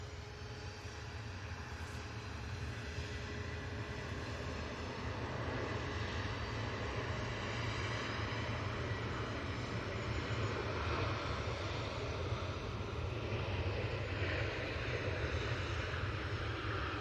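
A Jet2 Boeing 757 roars steadily at a distance in a continuous broadband engine rush that swells slightly as it passes, with no voices.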